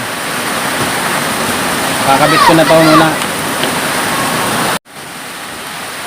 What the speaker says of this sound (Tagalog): Lakas ng ulan, may bagyo.